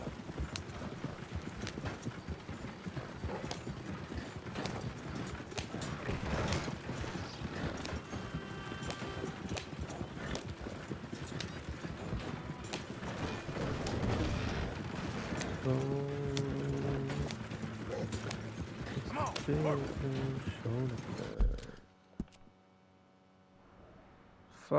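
Horse hooves clip-clop at a steady gallop in Red Dead Redemption 2, loud and continuous through most of the stretch, with a brief whinny-like tone and game sounds layered in before it cuts to near silence at the end.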